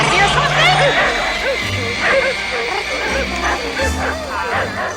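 Several dogs bark and yip loudly during a chase scene in the 1988 film Mac and Me, with whimpers and excited voices mixed in over a busy soundtrack.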